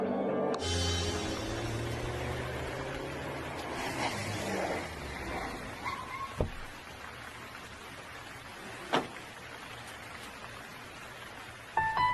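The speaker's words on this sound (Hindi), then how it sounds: "ये मुंबई की बारिश है, इतनी जल्दी बंद नहीं होगी" Heavy monsoon rain in Mumbai hisses steadily, with a low rumble fading early on and a few sharp knocks and clatters breaking through the constant downpour.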